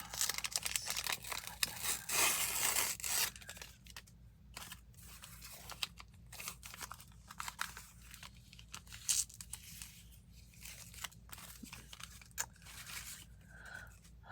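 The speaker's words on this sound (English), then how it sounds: "I do have some truly scrappy tape here." Scrappy craft tape being torn for a grungy paper tag, a burst of rough ripping and crinkling near the start followed by quieter intermittent rustles and small crackles, close and with no talk.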